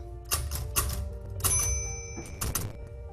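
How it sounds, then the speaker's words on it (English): Typewriter keys strike in short irregular bursts with brief pauses between, close and fairly quiet, with no voices over them. "I would hear the sound of the typewriter"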